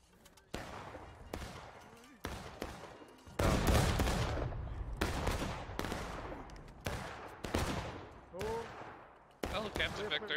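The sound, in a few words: rifle volley fire in the video game War of Rights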